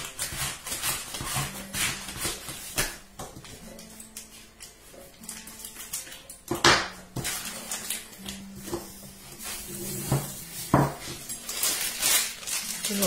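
A knife cutting through poultry in a home kitchen, with dense clattering and scraping against the board and utensils running throughout, and a voice talking over the work.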